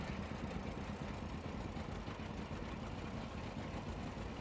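Vintage 45-horsepower tractor in Farming Simulator 22 running at a low, even rumble, fairly faint and unchanging throughout.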